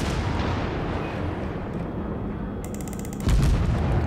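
Warship guns firing high-explosive shells in World of Warships, a long rumbling naval salvo followed by a heavier, sharper blast near the end.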